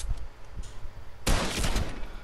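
Gunfire in the Fortnite video game, a brief volley of loud, dense rapid shots that bursts in suddenly after a quieter stretch with a few fainter pops.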